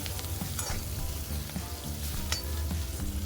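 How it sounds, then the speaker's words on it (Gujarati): Tomatoes with salt fry in oil while a spoon stirs them, giving a steady close sizzle with soft scraping strokes of the spoon throughout. "અને આપણે એને થોડીવાર ફ્રાય થવા દઈશું તેલમાં।"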